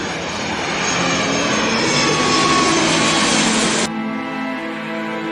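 A loud, steady airplane engine roar used as a sound effect in a Thai audio drama, a dense jet rumble and hiss that builds and then cuts abruptly to a quieter hum inside the cabin.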